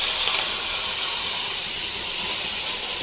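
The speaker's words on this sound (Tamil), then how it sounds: "அப்படியே அரைச்சதை ஊற்றிடலாம் அதில் தாளிச்சிடலாம்" Ground thumbai herb paste poured into hot tempering oil with mustard seeds and curry leaves sets off a loud, dense, continuous hissing sizzle, close and steady throughout with no voices.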